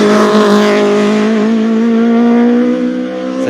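A race car climbs through the first corner after the start of the 46th Pourville-sur-Mer hillclimb, its engine holding a loud, steady, rising tone for a few seconds without any talk.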